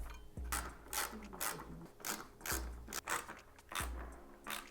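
Bolts go back into the metal piece of a BMW G42/G80/G82 steering wheel with a series of sharp ratcheting clicks, close and fairly quiet, repeated in short bursts about once a second.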